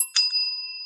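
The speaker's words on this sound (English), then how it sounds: "we both ring the podcast closure bell" A single podcast closure bell, a bright bicycle-style bell, rings once close and clear, its metallic tone sustaining and fading over a second.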